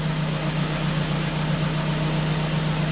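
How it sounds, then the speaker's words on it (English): A Ford Focus engine idles steadily, a constant low hum with a smooth, even drone that holds unchanged and close throughout, with no voices. "Engine runs perfect."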